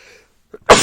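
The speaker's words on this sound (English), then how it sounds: "Oh, I'm going to sneeze." A man sneezes once, loudly and close up: a faint breath, a short pause, a small catch, then a sharp burst that holds briefly at the end.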